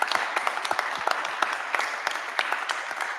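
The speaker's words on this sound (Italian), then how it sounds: "Un applauso." An audience gives a moderate round of applause, with individual sharp claps standing out over a softer, continuous patter that holds at an even level throughout.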